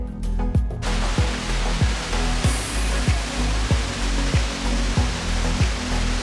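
Loud, steady roar of heavy water pouring down a waterfall in northern California, a dense broadband rush with a rhythmic low thudding pulse beneath it and no talking.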